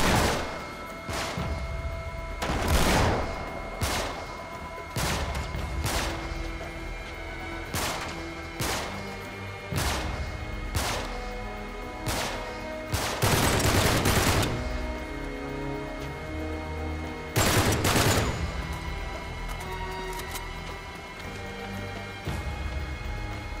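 Gunfire in Uncharted: Drake's Deception during a final boss fight on the hardest difficulty: sharp, loud shots crack out in an irregular series of single blasts and short bursts over a steady game soundtrack.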